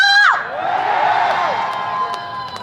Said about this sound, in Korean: 진짜 첫곡 부를 때보다 훨씬 함성 소리 커졌어요.